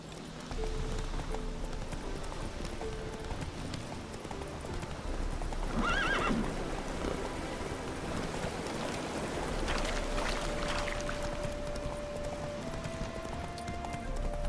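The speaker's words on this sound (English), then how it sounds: "There's a good horse." A horse in The Witcher 3: Hearts of Stone whinnies loudly mid-way while its hooves clip-clop steadily throughout over soft game ambience and a faint tone.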